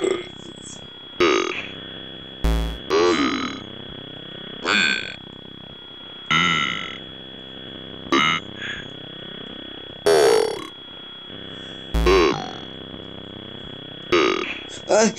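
Burp-like croaks from a character in Five Nights at Freddy's 2, about a dozen short bursts repeating at irregular intervals over a constant electronic hum, with no voices.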